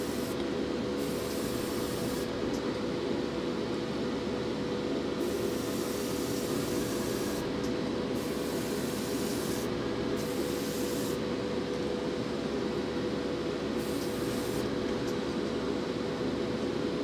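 Airbrush or spray can hissing steadily and continuously as paint is sprayed down onto a 1/32 scale model figure, a close, even broadband spray with brief pauses in the high hiss.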